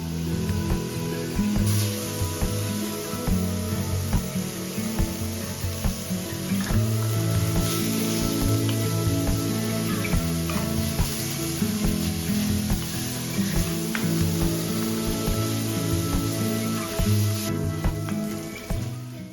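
Sweet Italian sausage meat, squeezed out of its casings, browns loosely in a pan for soup, giving a steady close sizzle with occasional utensil clatter over a constant low background.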